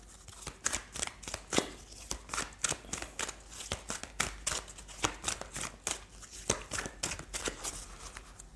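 Tarot cards being shuffled by hand, a quiet, close run of rapid riffling snaps and flicks repeating in quick irregular bursts throughout, with no talk over them.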